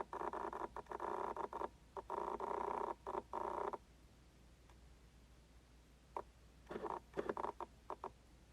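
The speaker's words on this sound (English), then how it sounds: "So this is an L lens, and here's what the autofocus sounds like on the card." Autofocus motor of a Canon L-series non-STM lens, heard as bursts of whirring and buzzing in short runs with pauses between, fairly close and alone with no talk.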